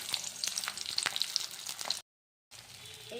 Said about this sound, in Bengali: সর্ষের তেল গরম করে তার মধ্যে দিয়ে দিলাম আস্ত রসুন, পেঁয়াজ